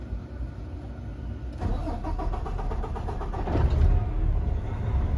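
A truck engine cranks and catches, then settles into a steady rumbling idle at close range, with a low mechanical drone throughout and no talking.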